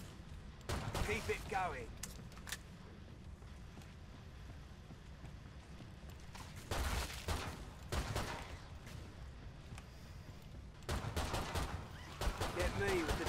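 Gunfire in Killing Floor 2 on a hard-difficulty Steam Fortress survival match, coming in several dense bursts at the start, middle and end over a steady game background, with a voice talking briefly.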